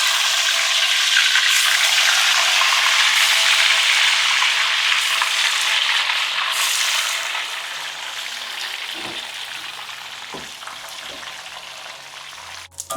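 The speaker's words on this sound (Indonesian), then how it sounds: "ini kita goreng pendampingnya daun singkong nih, ikan asin" Salted fish spits and sizzles hard in hot oil in a pan, loud and continuous at first, then settling into a quieter crackle with a few scattered pops and clinks near the end.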